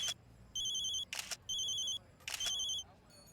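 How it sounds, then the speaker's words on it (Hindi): A telephone rings in bursts of a bright electronic trilling tone, three or four rings with short gaps, loud and close, interleaved with sharp clicking noises. "आपका फोन सर।"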